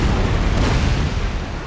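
Warship cannon fire in Empire: Total War rolls out as a dense, continuous booming roar, loud and broadband throughout with no clear gaps between shots.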